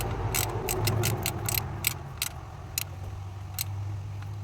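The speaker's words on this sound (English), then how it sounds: "now we're just getting the bolts snugged down" Bolts on the thermostat housing of a 2007 Chevy Equinox being tightened, a rapid run of sharp ratchet clicks up close, then a few sparser clicks over a low engine-bay hum.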